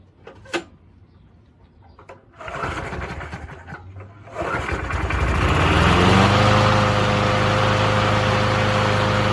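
A Lawn Chief two-stroke lawnmower engine cranks with a few short pulls, catches, and settles into a loud, steady buzzing run that continues alone to the end.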